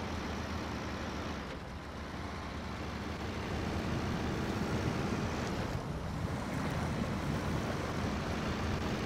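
In the Snow Runner video game, a heavy truck pushes through water flooding a road, giving a continuous loud rushing and sloshing wash over the engine rumble, with surges around the middle and again later.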